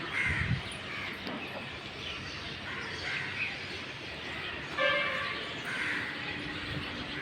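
Crows caw several times outdoors on a foggy morning in Kakinada, moderately distant, over a constant windy hiss.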